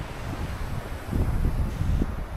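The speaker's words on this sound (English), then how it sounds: "In the gusts it's pretty high winds again." High gusty wind buffeting the microphone outdoors, a continuous low rumble that swells in stronger gusts, close and loud with no voices.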